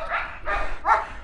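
An American Staffordshire Terrier guard dog barks three times in quick succession, loud and close, each bark short and sharp.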